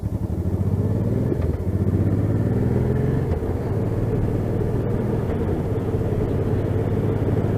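Motorcycle engine on a Ghost X Drift test ride drones loudly and steadily, with brief throttle blips and clutchless upshifts breaking the tone, recorded close with some wind buffeting.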